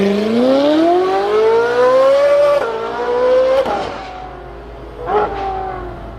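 A high-revving European V8 screams at close range, its pitch climbing steadily through a long pull before a brief dip and a second rising burst, with sharp shifts breaking the tone.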